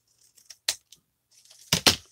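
Scissors snipping through a coffee-dyed paper tag, a few short dry clicks followed by two sharper, louder cuts close by, with no talking.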